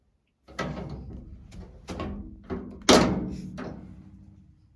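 The spring-loaded hatch lock and detent on a Scout Car clunk as the hatch is worked into its open position, giving several close metallic thunks and knocks, the loudest near the end.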